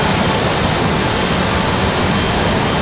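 Republic Airways airliner at Raleigh-Durham airport, a steady broadband engine roar that stays loud and constant throughout, with no voices.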